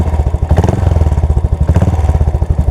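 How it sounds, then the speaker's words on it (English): A custom KGF-style motorcycle engine runs through its exhaust with a loud, steady, throbbing idle, its rapid pulses thumping evenly close by with no voices. "the motorcycle is vibrating into its place"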